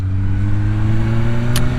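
A scooter engine drones steadily close by in a motorcycle setting, loud and even throughout, with a brief high hiss near the end.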